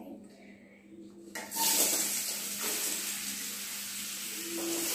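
Soya chunks fry in a pan in a home kitchen, starting with a steady, moderately loud sizzling hiss that continues throughout while people talk softly.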